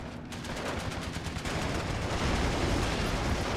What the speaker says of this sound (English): now the M4 is giving some supporting shots